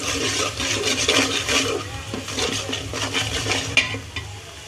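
Onions frying in oil in a pan while cooking a beef and chickpea lentil curry, a steady close crackle of sizzling with scraping stirs and occasional clinks of a utensil against the pan.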